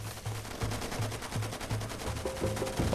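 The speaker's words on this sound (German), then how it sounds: "Die schießen nicht auf mich, die schießen auf Raren." Gunfire from a convoy in Far Cry 2: sustained rapid automatic bursts crackle continuously and fairly loud, with dull thuds layered underneath and no talking over them.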